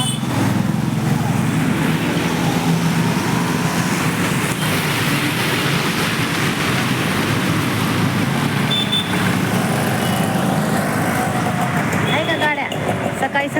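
Road traffic on a roadside, vehicles passing by in a steady loud broadband rumble that continues without a break, with people talking over it.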